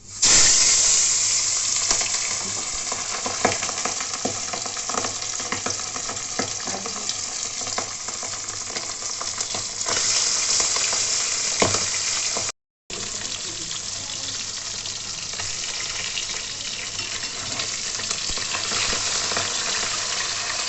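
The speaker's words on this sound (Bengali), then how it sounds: "তেলটা গরম হয়ে গেছে, এবার পাবদা মাছগুলো আমি ভেজে দেবো।" Pabda fish fry in hot oil in a pan, giving a loud, dense, steady sizzle close by with occasional crackles and a brief cut partway through, without speech.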